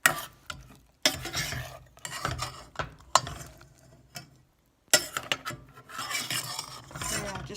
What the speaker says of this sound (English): Just a quick rough chop, and now a stir.